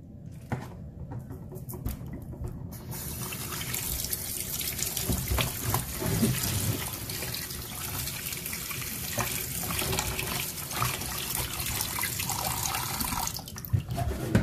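Water from a kitchen tap runs steadily into a sink while fish is rinsed, a continuous splashing gush with small clinks and shifting spatter throughout, close and loud, no voices.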